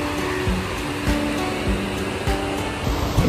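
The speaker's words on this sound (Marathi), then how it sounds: "ह्या लाटांचा आवाज ऐकायला नक्की या" Ocean waves roll in at Mandavi Beach in Ratnagiri, a continuous broad wash of surf with soft swells, steady and fairly loud with no voices.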